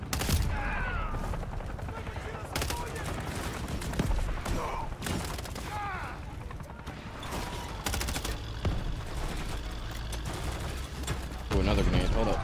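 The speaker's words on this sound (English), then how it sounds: "Getting crazy with the grenades now." Gunfire and grenade blasts from the video game Call of Duty Modern Warfare 3, played on Veteran difficulty, with dense continuous bursts, repeated sharp cracks and booms throughout, loud and near.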